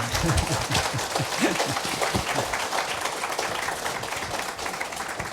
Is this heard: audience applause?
yes